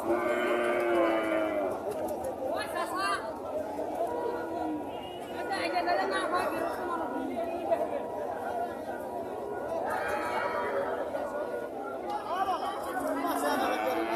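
Large cattle moo repeatedly amid a crowded, noisy livestock market, with many people chattering loudly around them.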